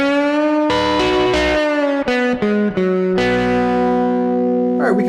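Electric guitar plays a simple country-style major pentatonic lick with distortion and effects, a run of clear bright notes and bends repeated once, loud and close with no talking.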